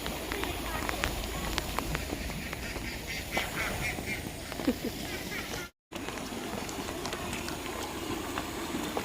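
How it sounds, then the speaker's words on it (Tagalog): Ducks quack repeatedly at a moderate distance, mixed with people talking and outdoor background noise, fairly quiet overall with a brief dropout partway through. "Oy, ang daming pato guys."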